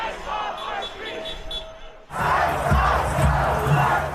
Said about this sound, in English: a massive crowd of anti-ICE protesters flooding downtown Minneapolis